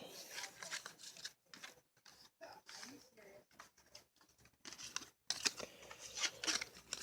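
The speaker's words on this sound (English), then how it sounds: "Let's just get the cards out of here." Trading cards being pulled out of a homemade Yu-Gi-Oh duel disk, giving soft papery slides and light clicking scrapes in short bursts separated by brief pauses, close to the microphone.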